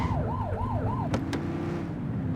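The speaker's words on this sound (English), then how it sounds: "Get on their tail and flip the siren." A police car siren from the video game The Precinct wails in rising and falling sweeps over a steady engine rumble. Two sharp bursts follow, then the siren holds a low steady tone under road noise.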